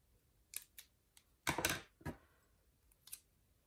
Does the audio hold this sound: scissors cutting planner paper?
yes